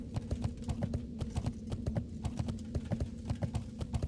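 Horse hooves clip-clopping at a steady riding pace, an even rhythmic patter of close, moderately loud footfalls with no voices.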